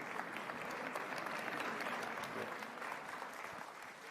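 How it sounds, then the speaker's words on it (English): Audience applause at a formal event honouring Sir Mo Ibrahim and Kenya's President William Ruto: steady, dense clapping from a large crowd, fairly distant and even throughout, with no voices standing out. "another hearty, warm clap for Sir Mo Ibrahim and His Excellency, the President, Dr. William Samoei Ruto"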